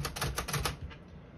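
Mechanical clatter from a 1951 Royal Quiet Deluxe portable typewriter as its backspace key is worked, several quick close taps in a burst that fade into a soft room hum.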